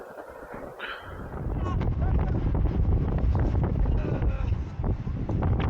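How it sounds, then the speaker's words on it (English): Strong wind at a summit buffets and roars across the microphone, loud and continuous, with a voice speaking faintly beneath the gusts. "I don't know if you can hear me above the wind."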